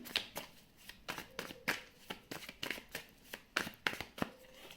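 Tarot cards are shuffled and drawn by hand, producing quick papery riffles and slaps in uneven bursts, close and fairly quiet, with no talking.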